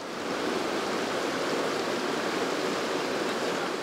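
Steady broadband rush of a waterfall stream in Abkhazia, continuous and fairly loud throughout with no voices.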